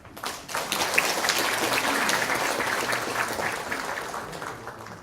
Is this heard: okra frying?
no